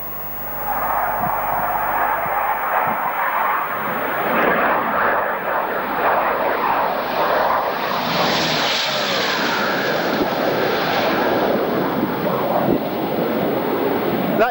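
A Bristol Britannia propeller aircraft makes a flight pass, a loud, steady broadband roar that swells and holds for the whole stretch, mixed with heavy wind buffeting at the microphone.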